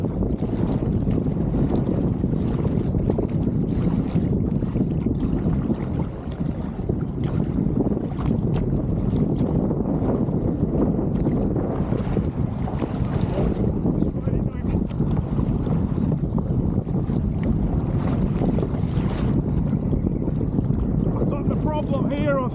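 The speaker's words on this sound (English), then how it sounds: "the wind's been coming up and getting stronger and stronger and stronger" Strong wind roars across the water at Wingan Inlet and buffets the microphone with a loud, steady rush. The noise runs unbroken the whole time, with no talking.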